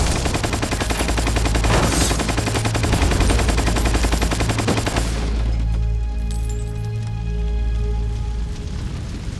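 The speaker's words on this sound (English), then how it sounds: "The tumbling of those rounds is pretty legit because of the short barrel." Rapid short-barrel automatic gunfire in the video game Metal Gear Solid 3, a loud dense burst of rattling shots for about five seconds, followed by quieter, sparser shots.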